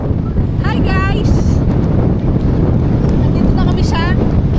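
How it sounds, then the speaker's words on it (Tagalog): Strong wind at Kiama Blowhole on the South Coast roars and buffets the microphone in a loud continuous rumble, with voices speaking over it. "Nandito na kami sa Kiama Blowhole at napakalakas ng hangin dito."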